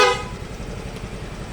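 A stock horn on a Yamaha Fazzio scooter gives one short honk at the start, a bright tonal blast that cuts off quickly and leaves low background noise.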